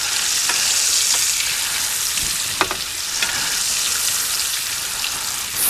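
A Walmart wagyu steak sears loudly in a hot pan for steak au poivre, a steady bright sizzle running throughout with a few sharp pops and crackles, no talking.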